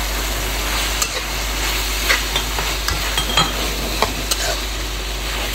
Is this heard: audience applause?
no